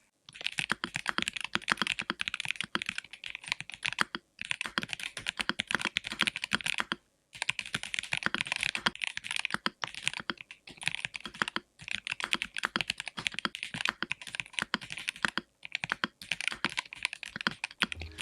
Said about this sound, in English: speaking of typing sound, let's have a little test.